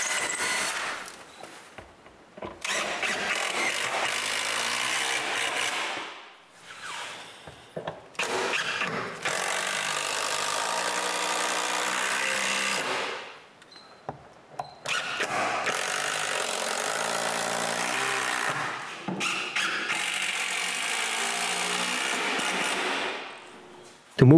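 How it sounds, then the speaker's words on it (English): A power screwdriver drives screws to fix a shelf support to a wall, giving loud whirring bursts several seconds long, separated by short pauses and ending abruptly. "Now I can finally screw the support to the wall."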